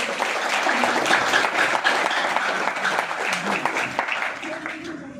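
Seminar audience at a business event in Faridabad clapping for couples, a dense, steady round of applause that fills the room and tapers slightly near the end, with voices mixed in.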